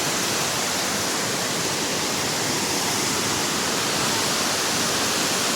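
The Məncuna waterfall in Turkey pours in a loud, steady roar of falling water, an unbroken broadband rush heard up close with no voices.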